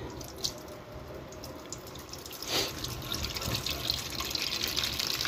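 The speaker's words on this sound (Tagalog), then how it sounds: "Ating kaldero. Lagyan natin ng tubig." Water runs steadily from a tap, splashing into a cooking pot, fairly quiet and continuous with no voices.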